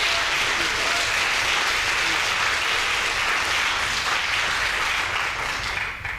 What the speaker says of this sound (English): as that round of applause demonstrates